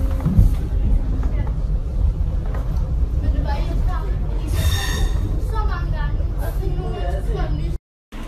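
A train ride on a hot day gives a continuous low rumble and rattle of the carriage, with some brief squeals over the steady motion and a person talking.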